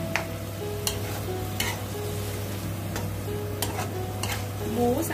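Pork belly with wild garlic simmering down in a pan, a steady sizzle underneath with a few sharp scrapes and clinks of stirring at irregular intervals, close and alone.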